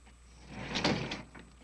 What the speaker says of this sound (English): Dracula slammed the door of the cage